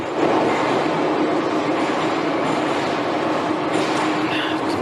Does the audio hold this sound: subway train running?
yes